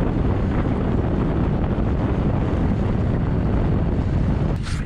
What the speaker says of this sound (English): Still really blowy.